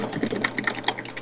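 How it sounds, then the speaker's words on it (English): Loud computer keyboard typing during a PvP game session, a rapid irregular run of sharp clicks and key clacks close to the microphone, with no talking. "I think my keyboard is a bit too loud"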